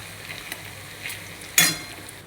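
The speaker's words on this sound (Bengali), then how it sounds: "এখানে পেঁয়াজ ভাজতে শুরু করে দিয়েছি" Onions frying in a pan, a soft steady sizzle with a few light stirs and one sharper clatter of a utensil against the pan near the end, close and fairly quiet with no talking.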